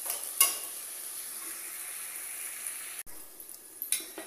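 Onion, tomato and finely chopped potato cooking in a pan, a soft steady sizzle with a couple of faint clinks from the pan, quiet and close.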